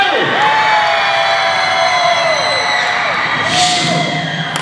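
A live audience at a motivational speaking event yells and cheers together in one loud, sustained roar lasting the whole stretch, with high whoops and children's shouts rising and falling near the end.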